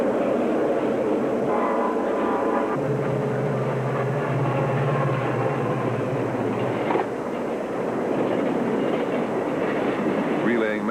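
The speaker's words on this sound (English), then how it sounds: "the trains as they roar through Gerlach" A train rumbles through Gerlach, Nevada, in a steady, loud roar with rattling wheels and a long low drone; faint voices sit under the noise.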